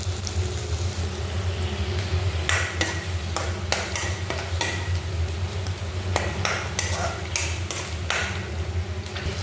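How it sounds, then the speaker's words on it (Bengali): Fish frying in a pan with a steady low sizzle and repeated sharp clatters of a spatula against the pan, moderately close. "মাছ ভাজি চলতেছে এখন।"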